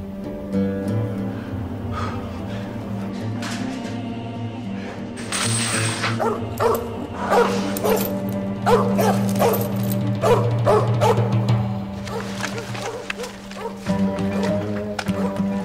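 Several dogs bark and yip near an old factory, loud rapid bursts building in the middle amid tense dramatic music.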